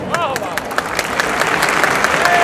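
An audience at a Hindi public speech claps steadily, the applause building slightly as it goes on, with a voice faintly mixed in underneath.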